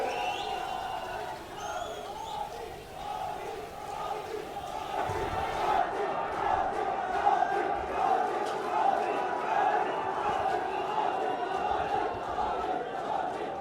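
Dense election rally crowd in Jodhpur roaring and shouting slogans with steady clapping, a loud sustained din of many voices throughout, growing fuller after the first few seconds.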